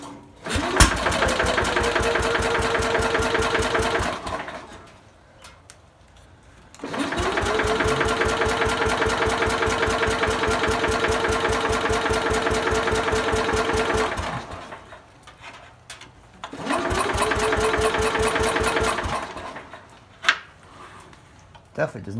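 A 1968 Sears Super 12 tractor engine with a hard-starting problem cranks in three long bursts of fast, even chugging. Each burst lasts several seconds and quiet gaps fall between them.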